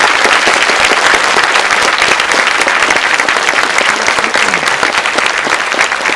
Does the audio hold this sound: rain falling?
no